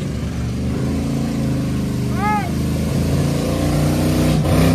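Cars, a Suburban among them, race on a city street, their engines a loud, sustained droning rev heard from nearby. A brief tonal whistle cuts in midway, and faint voices sit underneath.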